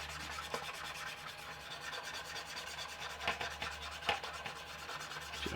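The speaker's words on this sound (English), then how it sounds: "So we're just going to rub, just going to fade these back just a little bit." Steady light rubbing and scraping against a 1/48 scale Revell Rafale M plastic model to fade its weathering, a soft continuous abrasive texture with a few sharper scuffs, close up and quiet, no talking.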